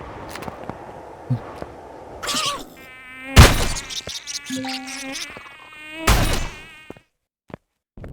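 Insect bugs buzz in the video game Empyrion, several whining drone bursts rising and falling close by amid occasional thuds and game sounds, fading to near silence at the end.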